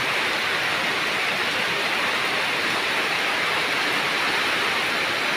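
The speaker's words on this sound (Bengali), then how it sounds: "দেখতেই পাচ্ছেন কীরকম বৃষ্টি পড়তেছে" Heavy rain falls steadily over a remote village in the late-summer monsoon, a dense, unbroken roar of hiss with no pauses or voices.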